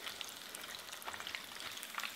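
Steady, close crackling and sizzling of pork deep-frying in hot oil for sweet and sour pork, with scattered sharper pops over a continuous bubbling hiss.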